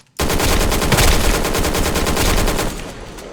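A sustained burst of automatic rifle fire in the shooter game Black Squad, rapid evenly spaced shots rattling loudly for about two and a half seconds before cutting off.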